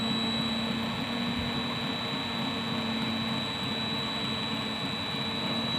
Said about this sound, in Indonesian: Kemudian motor perlahan-lahan menuju kecepatan 700 rpm.